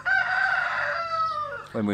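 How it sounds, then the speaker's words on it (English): A rooster crows once, loud and close, a long drawn-out call that falls off at the end, followed by the start of another call. "That's a cockerel."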